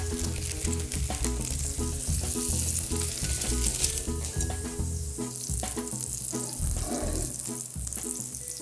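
Vegan burgers sear in a hot pan with a loud, continuous, crackling sizzle and occasional pops, close up and without pause.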